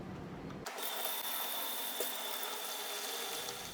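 Water from a tap runs steadily into a sink, a constant close rushing hiss that starts abruptly and continues throughout.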